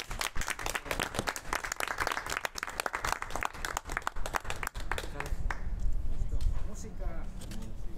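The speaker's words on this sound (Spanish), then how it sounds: "se merecen todas y todos un aplauso muy fuerte" Audience at the closing discussion of a dance and performance process applauding, with loud, sharp individual claps close to the recorder. The clapping gives way to a softer, denser murmur and shuffling toward the end.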